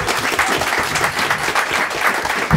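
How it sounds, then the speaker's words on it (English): Pub audience applauding the staff and team; a loud, dense round of applause that runs steadily from start to end, with a few voices mixed in. "So can I have a little round of applause for my staff and team?"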